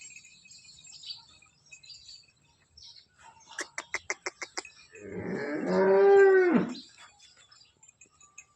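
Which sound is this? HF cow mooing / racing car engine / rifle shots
HF cow mooing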